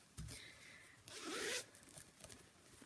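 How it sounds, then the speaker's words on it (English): A small zipper pull on a gift bag is jostled and slid, giving close, crisp zipping rasps and light clinks in quick bursts, with a longer drag in the middle. "the little zipper pull"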